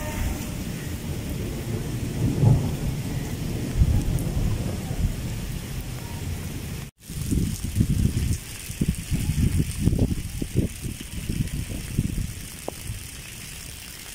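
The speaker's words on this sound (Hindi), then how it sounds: "बारिश फुल आती पी है" Steady heavy rain pours throughout in Pakistan, with low rumbling thunder rolling beneath it and a brief cut in the middle.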